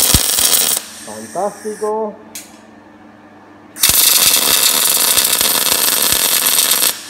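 Metal being welded for a home-built welding table, a loud steady crackling hiss that fills the second half, after a brief spoken exclamation and quieter handling noises.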